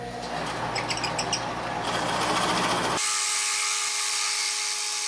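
A circle cutter, or fly cutter, cuts a full-depth groove with clean walls: a loud, continuous machining whine with a rough, chattering edge, shifting to a thinner, higher tone partway through, with no voices.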